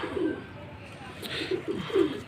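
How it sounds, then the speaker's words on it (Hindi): A pigeon coos several times in soft, low, rounded pulses over faint background noise, at close range. "ये देखो कबूतर"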